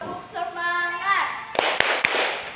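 A primary school class in Indonesia performs a tepuk semangat chant: a sung, drawn-out vocal line followed by a few sharp, loud hand claps in quick rhythm.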